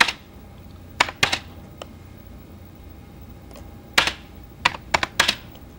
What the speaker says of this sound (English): I'm hitting M on the keyboard to bring up the motion panels